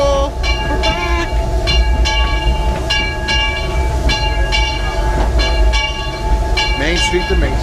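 Rhythmic clickety-clack of the Disneyland Railroad passenger train rolling along the track, with a steady low rumble and a few voices chattering faintly underneath.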